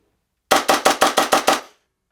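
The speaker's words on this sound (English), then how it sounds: "It's a little bit loud, but I really like that it gives simulated recoil." A Coolfire Sidekick dry-fire trainer fires seven quick simulated recoil shots in an even rapid burst, each a loud, sharp snapping crack close up, then silence.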